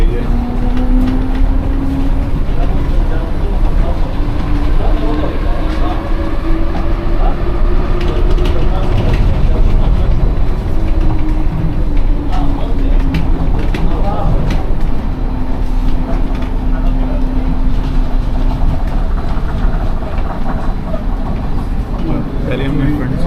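Rolling rumble of the terminal shuttle train at Frankfurt Airport, a steady loud ride noise with a whining tone rising and falling throughout, while people talk over it.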